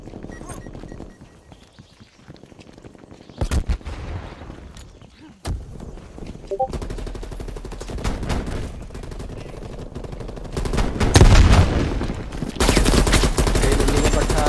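Bursts of gunfire and shotgun blasts in the video game Call of Duty: Black Ops Cold War, sharp loud cracks and rattling volleys in irregular clusters with footsteps and a voice in between.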